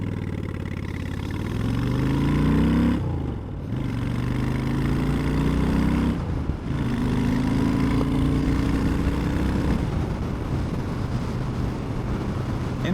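Honda Shadow 750 motorcycle engine under way, a steady low throbbing drone that rises in pitch through the gears, with two brief dips at gear changes before it settles into a constant cruising hum.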